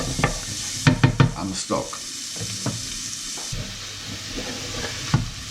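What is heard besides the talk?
tomatoes and ingredients sizzling and cooking in a pan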